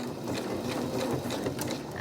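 A sewing machine stitches through a fabric face mask and its ribbons in a quick, continuous mechanical whirr lasting a couple of seconds.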